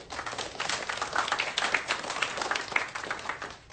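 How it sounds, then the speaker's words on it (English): Dense, continuous clapping from a crowd, a steady patter of many hands at moderate volume, with no pauses. "People are clapping for Iran?"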